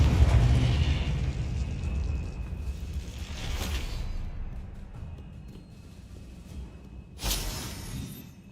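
A Confringo fire spell blasts in Hogwarts Legacy. A rumbling explosive burst opens, then sharp whooshing pops hit a few seconds apart over a low, fading roar.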